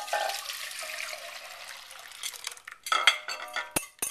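Chocolate pudding is poured back into a saucepan with a soft liquid pour, then a utensil stirs and clinks against the pot in sharp, irregular scrapes and taps, close up with no speech.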